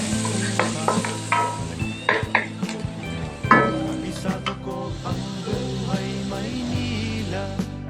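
A heap of chopped garlic goes into a hot pan of oil for garlic shrimp and sizzles loudly, with a utensil stirring and clinking against the pan in irregular scrapes and taps throughout.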